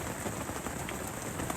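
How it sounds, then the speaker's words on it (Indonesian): Heavy rain pours steadily at night in a forest camping spot, a dense, continuous hiss of drops drumming on surfaces, close and unbroken with no voices. "seperti derasnya hujan malam ini"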